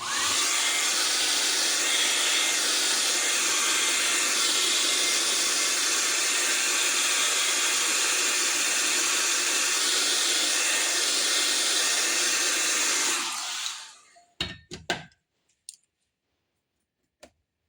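A heat dryer blows steadily and loudly over a textured craft surface for about thirteen seconds, then cuts off, followed by a few faint clicks and knocks.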